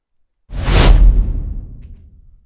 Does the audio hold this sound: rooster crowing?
no